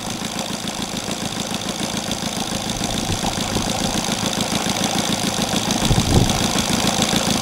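Saito 270 twin model aircraft engine converted to run on gasoline, fitted with a propeller, running steadily at high speed with a dense, loud buzzing drone and a brief rise in intensity near the end, no talk.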